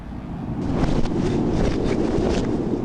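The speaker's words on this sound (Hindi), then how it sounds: "यहाँ बहुत तेज हवा चल रही है, इतनी तेज कि मैं आपको बता नहीं पाऊंगा" Strong wind roars and buffets a microphone high in the mountains of Himachal Pradesh, a continuous loud rushing with gusty swells and no voices.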